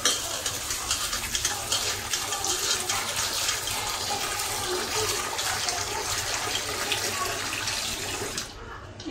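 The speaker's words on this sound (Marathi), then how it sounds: "आता हे मी धुवून काढणार आहे" Raw karonda berries being washed in water, with steady running and splashing water sounding close and continuous throughout, easing off briefly near the end.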